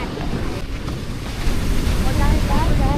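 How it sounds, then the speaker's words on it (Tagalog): Strong ocean waves surge and wash continuously in heavy wind, with a rough, roaring rumble and gusty wind noise buffeting the microphone throughout. "Walang dagat, napakalakas ng alon."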